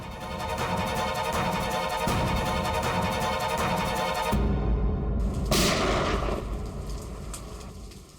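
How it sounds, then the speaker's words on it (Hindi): Gunshots ring out during heavy rain, loud sharp reports over a constant rain hiss, several booming shots in the first half followed by a sharp crack and a lingering rumble. "ये कहीं गोली चली है।"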